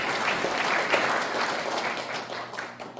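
Steady applause from the audience at a provisional government anniversary ceremony hosted by an independence activists' association, a dense wash of many hands clapping at moderate volume for the whole stretch.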